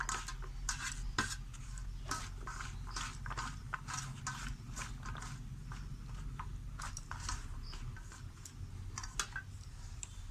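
Jackfruit mashed by hand in a bowl gives a steady run of soft squelches, taps and scraping clicks in an uneven rhythm, close and fairly quiet.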